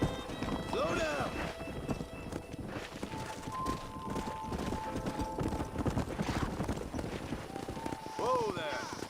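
Horse hooves clip-clop rhythmically across ground in the video game Red Dead Redemption, with occasional whinnies and game voices speaking over the steady trotting.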